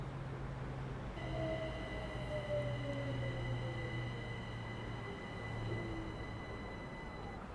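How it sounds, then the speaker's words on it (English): A London Overground train runs on the Mildmay Line in Train Sim World 5, heard faintly as a steady rail rumble with whining tonal hums and a sliding pitch as it passes. "I see a train."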